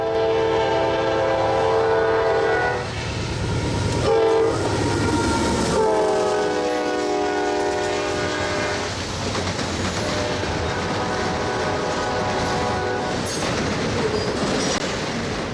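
Norfolk Southern train 258, a Kansas City to Rutherford double-stack freight, sounds its horn in long, loud chords at Fostoria, Ohio, over the heavy rumble and clatter of rolling cars and locomotives that carry on after the horn stops.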